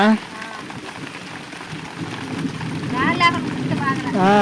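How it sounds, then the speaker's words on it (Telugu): Steady rain hisses down heavily at night in a garden, with lightning flashing and a voice speaking intermittently over the downpour. "గబకన వాన వచ్చింది"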